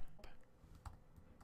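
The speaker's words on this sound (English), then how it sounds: "now I'm going to type" Keys clatter on a computer keyboard while someone types a command into a terminal, giving a short run of quick, light clicks close to the microphone.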